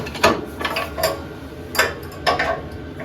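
A Snap-on spanner's ratchet clicks in several short bursts of metallic ticks while being freed during attachment lift repairs on a Bolens Ride-a-matic garden tractor, loud and close with no talking.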